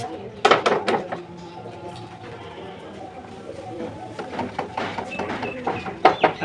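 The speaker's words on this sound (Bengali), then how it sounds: "তারপরে সব কটা পায়রাকে ছেড়ে দেবো আমরা" Pet pigeons are released to fly, giving sudden close bursts of clattering wing flaps, first a short flurry and then a longer run of flapping, with voices talking in between.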